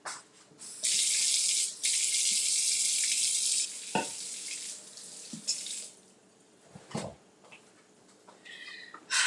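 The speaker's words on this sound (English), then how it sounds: "let me just wash my hands again." Kitchen tap running as hands are washed, a steady close hiss of water for several seconds that then stops, followed by brief splashes, clatters and quieter handling sounds.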